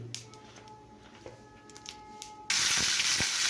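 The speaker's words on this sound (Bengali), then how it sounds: "করলা ভাজা, লঙ্কা ভাজা, রসুন ভাজা দিয়ে দিলাম" Bitter gourd, chili and garlic frying in a pan. Quiet kitchen clatter comes first, then an abrupt, loud, steady hiss takes over for the last second, with no talk.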